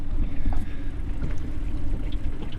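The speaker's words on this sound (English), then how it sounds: "for a 15 horsepower motor with one person on here, it's got a lot of grunt" A 15 horsepower outboard motor drives a small boat with one person aboard, a steady low rumble running throughout with water splash and some wind noise on the microphone, no talking.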